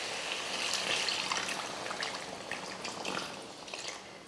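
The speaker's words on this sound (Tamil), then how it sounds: "இப்போ தண்ணி சேர்த்துருவோம்" Water splashes and trickles steadily into a pot of cooking curry, a soft continuous pouring sound with light bubbling, fairly quiet and close.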